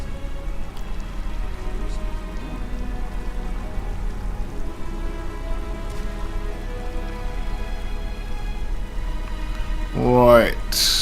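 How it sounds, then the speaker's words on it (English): Rain falling in the video game Skyrim, a steady soft patter and hiss holding evenly throughout, with a brief rising tonal game sound near the end. "He knew it was gonna rain."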